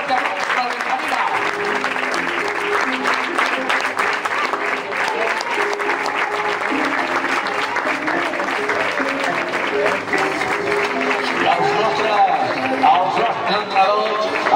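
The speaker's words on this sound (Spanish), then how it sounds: "Fort aplaudiment per Benjamí A." A crowd at a youth football club's season team presentation applauds the Benjamí A squad, dense sustained clapping filling the hall loudly with a voice over a loudspeaker heard beneath it.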